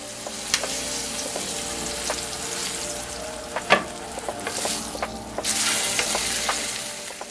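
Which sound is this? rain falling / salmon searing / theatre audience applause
salmon searing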